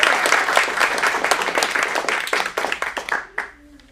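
Audience applause at a teen acting studio showcase in Phoenix: dense, steady clapping that fills the room, thins out near the end and gives way to a brief voice.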